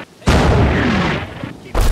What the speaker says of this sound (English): So this artillery is continuing to land on the right flank